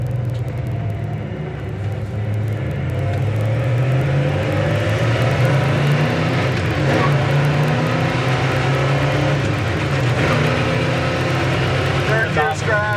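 An unmodified 1967 Chevrolet Chevelle SS drives with a steady, loud low engine drone that rises and falls slightly through gear changes, while people talk over it throughout.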